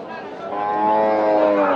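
A crossbred cow at a cattle market in Nilphamari gives a single drawn-out moo that swells in loudness, heard up close and clearly over faint background murmur.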